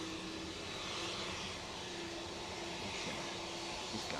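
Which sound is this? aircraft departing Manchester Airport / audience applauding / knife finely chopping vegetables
aircraft departing Manchester Airport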